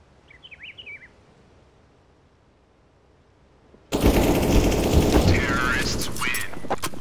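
AKM rifle gunfire in a Counter-Strike match erupts suddenly after near silence and a few faint chirps, a loud sustained burst of close shots, with voices talking over it.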